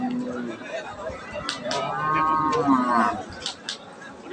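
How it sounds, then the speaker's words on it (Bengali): A Holstein Friesian dairy cow at a busy cattle market lets out a drawn-out moo in the middle, close by, while crowd chatter and people talking fill the background. "এই যে এখানে একটা গাভী দেখছিলাম, হলস্টিয়ান ফ্রিজিয়ান জাতের"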